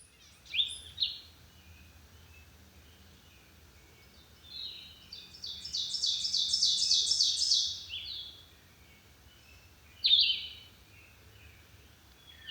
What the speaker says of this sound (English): Just sit here for a minute and listen to the birds.